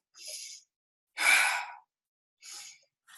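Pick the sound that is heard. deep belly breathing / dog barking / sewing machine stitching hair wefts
deep belly breathing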